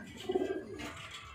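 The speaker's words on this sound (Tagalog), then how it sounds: "Mga ibon." Pigeons coo inside a pigeon loft, one soft throaty burst of cooing near the start, then a quieter rustling background without talking.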